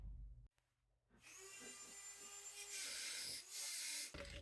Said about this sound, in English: this little grinder bit attachment, and just try to smooth those holes out a little